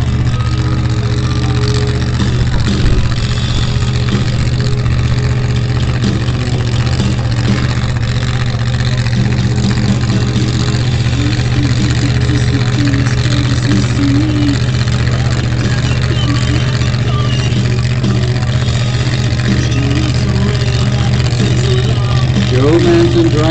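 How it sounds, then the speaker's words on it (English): A drag racing car's engine idles loudly with a constant low rumble through the whole stretch, while an announcer speaks over it. "Joe Manson driving Spike."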